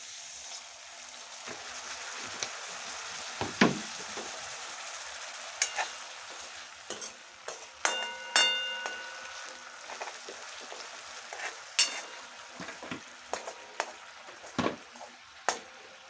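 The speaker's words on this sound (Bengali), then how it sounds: "অল্প একটু জল দিয়ে দেবো মশলাটা যাতে কষানো হয় ভালো করে" Spiced masala for a Bengali chicken and aubergine curry is stirred and sautéed in oil with a splash of water, giving a soft steady sizzle broken by intermittent spoon scrapes and clinks against the pan, close and moderately quiet.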